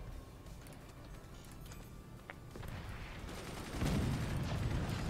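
Anti-aircraft guns fire in the artillery strategy game Forts, a dense stream of distant-sounding shots and rattling bursts that thickens and grows louder toward the end.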